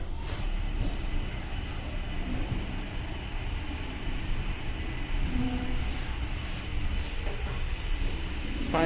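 A Kolkata metro train pulls into Dakshineswar station with a steady, loud rumble of wheels and carriage noise that holds throughout, with no one speaking.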